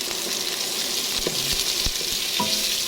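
Chopped onion sizzles in a hot pan while cooking arroz caldo, a steady frying hiss broken by a few stirring scrapes and clinks of a utensil.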